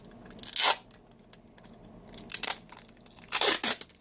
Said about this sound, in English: just go and get yourself some regular packing tape